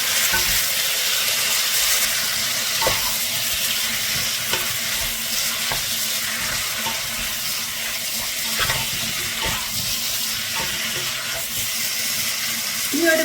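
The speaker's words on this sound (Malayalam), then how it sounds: "ഈ ഇറച്ചിയും ഉരുളക്കിഴങ്ങും മാഗ്നേറ്റ് ചെയ്ത് വെച്ചേക്കുന്നത് ഇന്നത്തേക്ക് ചേർത്തിട്ട് നന്നായി ഒന്ന് ഇളക്കാം" Marinated chicken and potatoes being stirred in a pan for Kerala chicken varattu, a faint steady sizzle with soft irregular scraping and clinks throughout and no talking.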